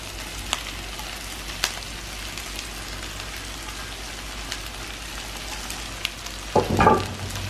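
Fried eggplant and capsicum being mixed in a pan give a steady close sizzle throughout, with a few faint clicks and a brief louder burst of stirring near the end.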